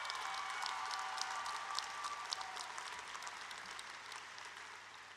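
Sustained applause from a large audience at a university commencement ceremony, many hands clapping in an even, slightly distant wash that fades gently toward the end, with no talking.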